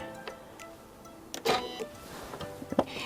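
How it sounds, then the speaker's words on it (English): A domestic home sewing machine makes a single stitch, a brief mechanical whir and clack heard close, with a few small clicks before and after. "I'm just going to do that one stitch stop, bring the bobbin thread to the surface."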